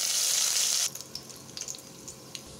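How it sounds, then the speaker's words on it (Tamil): A loud crackling sizzle of mustard seeds popping in hot oil, cutting off abruptly, followed by scattered small pops and quiet crackles. "இப்போ கடுகு பொரிஞ்சிருச்சு."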